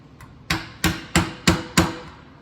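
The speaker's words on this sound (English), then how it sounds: "I'm gonna push in on the bolt and tap down on this." Five crisp, evenly spaced metallic hammer taps on a frame bolt while fitting a radiator on a Freightliner 114SD truck, close and loud with quiet between strikes.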